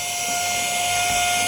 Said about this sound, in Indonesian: Dari tadi gue lagi nge-vacuumin ini.